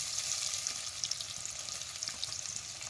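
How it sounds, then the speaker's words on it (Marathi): Finely chopped onion fries in oil with mustard seeds and cumin, producing a steady, fairly soft hiss with faint crackles and pops and no voices. "आता हे बारीक चिरलेला कांदा यात घालायचा."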